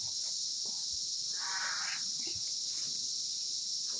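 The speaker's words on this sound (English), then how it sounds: "Welcome the sound of the cicada bugs." Steady high-pitched insect droning fills the whole stretch, a constant shrill buzz of cicadas with faint background rustles beneath.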